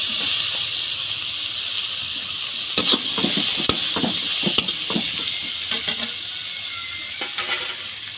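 Onion and tomato fry in a pan for egg bhurji, making a loud, continuous sizzle broken by repeated spoon scrapes and clinks as the mixture is stirred.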